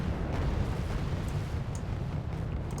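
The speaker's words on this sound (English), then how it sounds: "it looks like artillery's now firing again" Artillery firing in Wargame AirLand Battle, a continuous low rumbling roar of distant barrages with no clearly separated booms.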